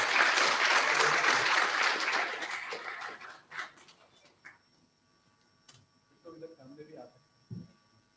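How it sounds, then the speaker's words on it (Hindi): Audience applause at an inaugural session, loud and dense at first and then thinning out over several seconds, followed by near-silence and a few scattered sounds and voices. "तालियां बजा सकते हैं आप लोग भाई,"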